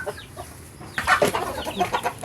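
Pet chickens cluck and scratch while being fed, several short fowl calls and busy rustling growing louder after a quieter start, close by with no talk.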